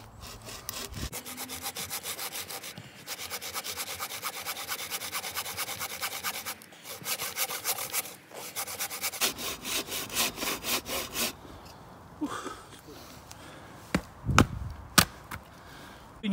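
A Bahco Force Ergo 24-inch bow saw cuts wood during a tree-felling pitch cut, with fast, steady back-and-forth strokes for several seconds, then slower, uneven strokes and a few sharp knocks.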